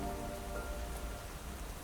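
Steady rain falling in a low, even wash of hiss that continues unbroken throughout, soft and fairly faint with no voices.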